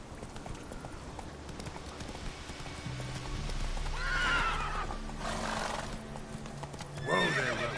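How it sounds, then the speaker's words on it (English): Horse in The Witcher 3 trotting with clip-clopping hooves, then giving several loud whinnies and neighs over a low rumbling game backdrop. "Whoa there, Roach."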